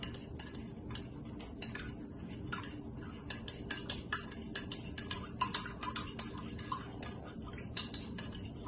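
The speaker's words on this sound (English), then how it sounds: "Get the syrup stirred up in there." A spoon stirring syrup mix into a drink, a string of quick light clinks and taps against the glass in an irregular rhythm, close and fairly quiet with no talking.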